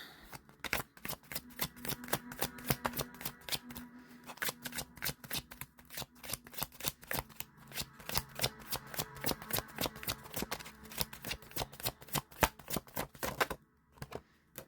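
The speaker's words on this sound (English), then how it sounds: "For some reason I want to shuffle again, so I'm going to." Tarot cards are shuffled by hand at close range, a long run of rapid crisp riffling clicks and slaps with a fairly even rhythm, quiet overall and without talk, stopping briefly near the end.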